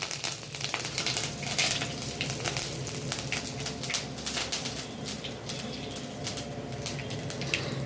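Curry leaves drop into hot oil with mustard seeds for a chilli sambar tempering, giving a loud continuous crackling sizzle with dense popping spatters close to the pan.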